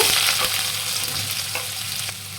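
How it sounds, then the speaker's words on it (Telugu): Chopped onions frying in hot oil in a pan, a steady close sizzle with occasional stirring scrapes, no talking. "ఈ ఆనియన్స్ అనేవి మనకి కలర్ మారినంత వరకు కూడా వేయించాలి"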